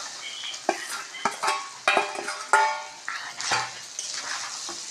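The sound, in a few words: okra frying in a pan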